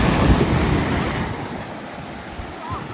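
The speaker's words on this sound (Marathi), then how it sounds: "समुद्राचं रौद्र भीषण रूप इथे आपल्याला पाहायला मिळत आहे" Rough sea waves crash on the shore at Borya village in Guhagar. There is a loud, continuous roar of surf mixed with heavy wind buffeting, strongest at the start and easing slightly.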